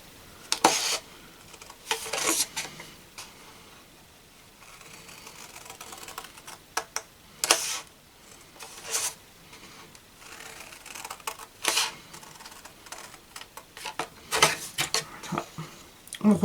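Scissors snip paper while small Easter baskets are being made, giving a series of short, close, uneven cuts and rustles with pauses between them and no speech over them.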